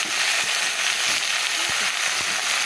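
Okra sizzles in a pan after a nigella-seed tempering, a steady, close, continuous frying hiss that holds evenly throughout with no one speaking.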